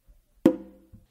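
A single sharp hand drum stroke from a combination rings out with a short decaying tone, followed by a soft muffled tap, close and alone.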